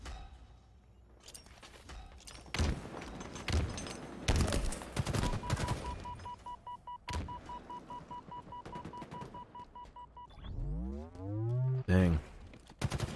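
Rapid gunfire from a Halo video game match, with dense bursts of shots and thuds close up and a steady electronic tone. A commentator talks over the shooting, and whooshing sweeps follow near the end.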